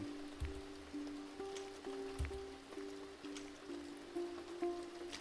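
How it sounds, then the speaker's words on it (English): Rain falling in the video game Press Any Button, a steady patter of drops over soft, looping tonal game music, with a couple of low thumps along the way. "Now we're doing it with rain."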